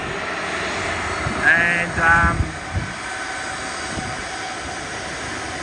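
Airliner jet engines at Sydney airport with Boeing 777-300 jets departing, a steady broad roar heard from a distance with a brief whine and a few louder swells, as a voice speaks briefly over it.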